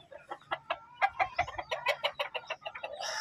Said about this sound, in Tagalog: Ito, may mga manok din siya